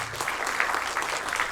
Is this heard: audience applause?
yes